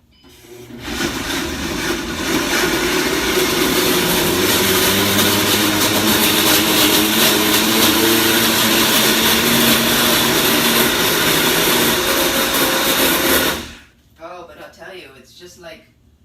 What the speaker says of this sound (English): It is a little bit noisy when this thing starts blending and whipping it up.